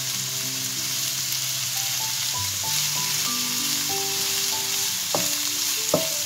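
Zucchini sautés in a pan with carrots in a continuous loud sizzle, with faint tonal sounds running underneath and a few clinks near the end.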